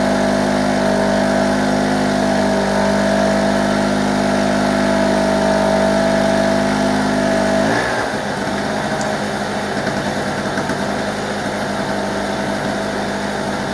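Petrol generator running on old fuel, a steady loud engine drone that shifts abruptly partway through to a rougher, slightly quieter running note, continuing without pause.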